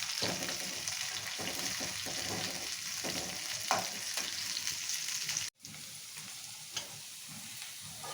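Okra frying in oil in a pan, a steady dense sizzle with scattered stirring scrapes, briefly cut off near the middle before resuming.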